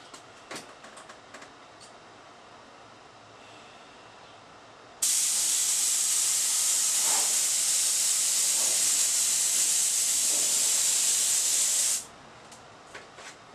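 A compressor-fed HVLP spray gun, running low on finish while spraying woodwork, gives a loud, steady airy hiss for about seven seconds before cutting off abruptly, with quiet surroundings before and after.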